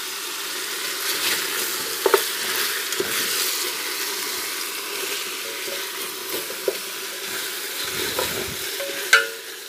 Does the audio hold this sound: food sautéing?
yes